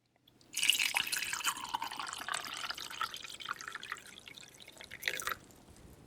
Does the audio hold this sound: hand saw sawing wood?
no